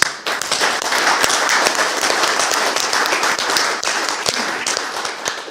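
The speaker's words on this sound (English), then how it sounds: "So a special round of applause for you, I think, right now." A room at a club and representative awards ceremony breaks into dense, lively applause, many hands clapping close and steady throughout with a few sharper individual claps.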